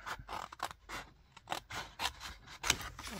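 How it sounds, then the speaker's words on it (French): Scissors cut a cloud shape from paper for a scrapbooking project, giving a run of quick close snips and rustling slides of paper at an irregular pace, quiet and alone. "Et on vient de découper le nuage."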